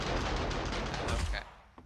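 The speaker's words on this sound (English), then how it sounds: "Them turrets doing their job." Automated turrets in the video game 7 Days to Die firing a rapid, loud volley of gunfire for over a second, then breaking off, followed by a single fainter shot.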